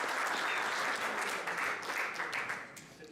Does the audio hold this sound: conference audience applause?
yes